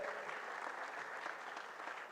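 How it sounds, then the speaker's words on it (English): Continuous crowd applause at a medical college's annual function, an even wash of many hands clapping, fairly distant and quiet, lasting the full two seconds without any voices. "Please give a huge round of applause for Sir."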